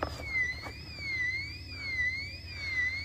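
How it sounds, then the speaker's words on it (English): A warbling electronic alarm, the kind that signals dogs near a meat chicken coop, wails continuously in a steady rising and falling sweep at moderate loudness over a low background rumble. "well, the alarm's working."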